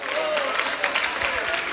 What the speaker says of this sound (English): I knew that women would join men in clapping